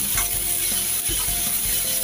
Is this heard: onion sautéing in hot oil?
yes